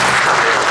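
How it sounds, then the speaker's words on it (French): A church congregation at a child's presentation at the temple applauds steadily, a dense, loud wash of clapping that fills the whole moment without pause. "je demande que l'Assemblée acclame le Seigneur"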